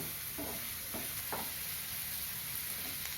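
Finely chopped onions sautéing with rock salt in a pan for egg keema masala, a soft steady sizzle with a few light stirring scrapes, faint and close with no talk.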